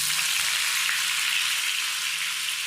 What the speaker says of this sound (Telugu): ఇప్పుడు ఈ పన్నీర్ ముక్కల్ని కిందికి పైకి టర్న్ చేసుకుంటూ మంచి బంగారు వర్ణం వచ్చేంత వరకు ఫ్రై చేసుకుందాం